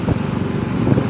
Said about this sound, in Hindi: अभी हम बाइक चला रहे हैं